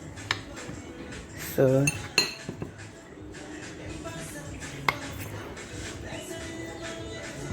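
Metal utensil clinks and scrapes against a pot while a portion of yam bake is cut, with a few sharp knocks and some brief talk over a low room hum.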